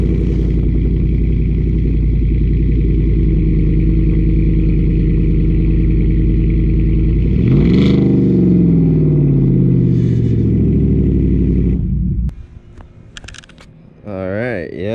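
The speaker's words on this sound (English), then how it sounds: "So do a little cold start on the truck" A truck engine cold-starts with a loud exhaust, holding a deep rumbling idle, then revving sharply into a sweeping roar before cutting out, followed by scattered clatter and a voice.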